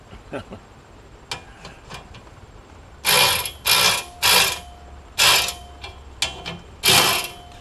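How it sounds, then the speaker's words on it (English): A Harbor Freight welding cart's bolts get tightened with a ratcheting tool in several bursts of rapid mechanical clicking, each lasting about half a second, separated by pauses with faint handling knocks. "Go back to tightening."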